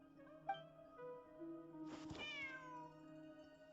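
A cat in the video game Genshin Impact lets out a single soft meow, rising then falling, over quiet background music.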